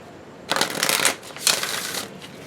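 Oracle cards being shuffled by hand, two quick bursts of papery riffling and sliding, close and fairly soft, with no talking.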